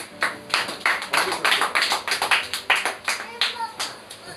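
A church congregation at a French-language worship service claps in a lively, fairly steady rhythm, many hands together at close range, lasting the whole moment with some murmured voices underneath.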